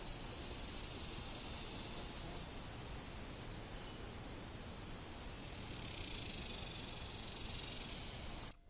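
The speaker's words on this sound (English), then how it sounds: "It's got some cicadas and some birds." A dense, continuous high buzzing drone of cicadas, with some birds, fills the air, steady and unbroken, ending with an abrupt cut.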